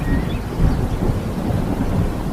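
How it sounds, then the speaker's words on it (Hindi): Heavy rain pours with deep rolling thunder in a Hindi cartoon, a loud, dense and continuous storm roar with no talking. "तभी तेज बारिश शुरू हो गई।"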